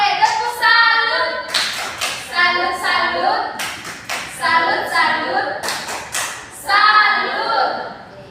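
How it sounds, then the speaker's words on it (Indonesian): An elementary class performs the 'tepuk salut' clap routine, giving sharp rhythmic bursts of group clapping and slaps between stretches of children chanting together, loud and close. "tepuk salut"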